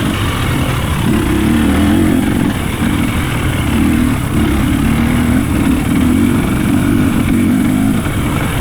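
A four-stroke dirt bike races through a hare scramble enduro course, its engine droning loud and steady close by with rising and falling revs throughout, no voices over it.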